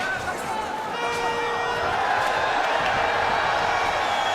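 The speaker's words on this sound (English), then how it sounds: "The crowd trying to get behind their hometown hero." A live crowd at a GLORY 47 kickboxing bout roars and cheers for a hometown fighter in round three, a continuous arena din under steady commentary with a few whoops rising out of it.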